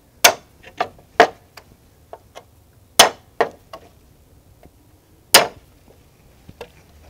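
A hammer drives a punch to knock boards off a wooden shipping pallet, giving sharp metallic clanks in irregular bursts, some strikes loud and close and others lighter, with pauses between groups.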